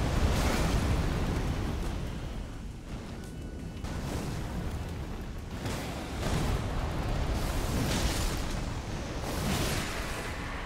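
Explosions during the second phase of an Elden Ring boss fight, with skulls flying everywhere; repeated heavy booming bursts swell and fade over a continuous rumbling roar, loud with no talk.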